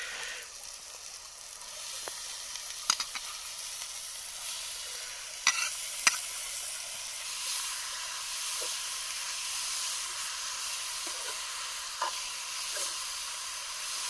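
Dried kolim shrimp sizzles steadily in a hot pan, a continuous frying hiss with a few sharp pops and clinks of stirring scattered throughout, no voices.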